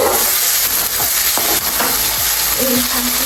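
Onion and tomato fry in a pan with cumin, mustard seeds and spices, a loud steady sizzle with scraping stirs and a few clinks throughout.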